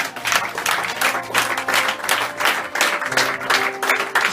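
A church congregation applauds in a sustained, dense round of clapping, loud and close, with a faint murmur of voices underneath.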